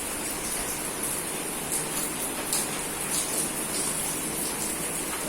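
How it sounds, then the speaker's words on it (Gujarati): Rain falls steadily in an even, hissing wash that holds constant throughout, moderately loud, with no voices. "વરસાદ ક્યારનો આજ ચાલુ છે તમે જોઈ શકો છો"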